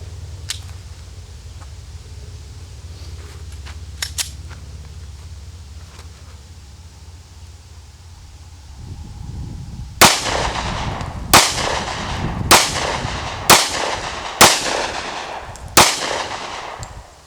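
A Smith & Wesson M&P 40 Shield pistol with a stainless steel guide rod is fired at a target seven yards away, six loud sharp shots in a fairly even rhythm following a quiet stretch.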